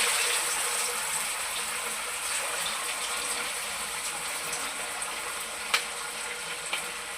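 Marinated chicken leg pieces for garlic kebab fry in hot oil, a steady even sizzle with a couple of sharp clinks near the end, no voices.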